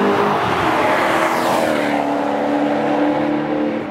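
Maserati GranTurismo MC Stradale under way, its engine note loud and steady with harmonic bands sweeping as it revs and shifts, close and continuous throughout with no talking.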